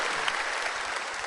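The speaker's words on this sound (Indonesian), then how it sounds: "Tepuk tangan buat lo semua." An audience claps steadily and densely at an indoor stand-up comedy show in a tennis hall, a close, continuous wash of applause with no talk.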